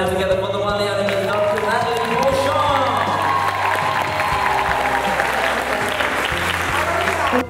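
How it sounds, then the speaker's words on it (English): Applause fills the room as a speaker is introduced at an Ottawa event, a steady clapping crowd heard under loud walk-on music with a sustained bass line and melody. "please put your hands together for the one and only"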